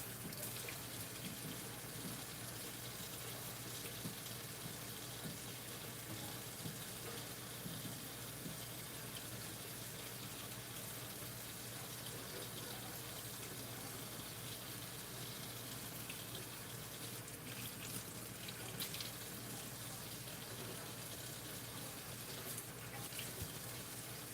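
Water from a kitchen tap runs steadily as peeled shrimp are rinsed, a constant faint rushing with occasional splashing over the full length.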